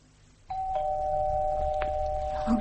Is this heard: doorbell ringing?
yes